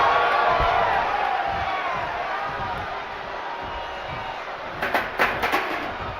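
Arena crowd in the WWE 2K25 wrestling game, a steady roar of cheering that builds into a few louder bursts of whoops and yells near the end.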